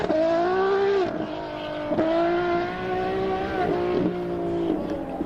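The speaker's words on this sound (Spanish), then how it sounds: "Es un RX7." Mazda RX-7 with a rotary engine accelerating hard, its high buzzing whine climbing in pitch, then dropping briefly at each gear change, repeating several times, loud and close.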